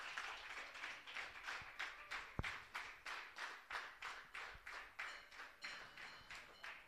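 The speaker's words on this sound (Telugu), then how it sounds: "గట్టిగా మనం ఒకసారి చప్పట్లతో సన్మానం చేద్దాం." An audience at an ashram gathering in Bardipur claps together in steady, rhythmic bursts to honour a speaker, the clapping held at a moderate distance and continuing for several seconds without any voices over it.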